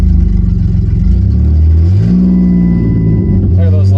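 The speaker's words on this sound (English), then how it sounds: "Every time I flip the throttle" A Dodge Caravan engine revs as the throttle is flipped, its RPMs hanging and surging a little. A loud, close mid-pitched drone shifts upward partway through and holds steady, with a voice talking over it.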